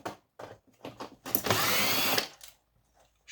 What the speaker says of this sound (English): the drill is fully charged because this will be a backbreaker